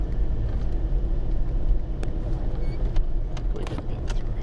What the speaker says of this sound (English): It's nice to hear the gearing when you're putting it down in first gear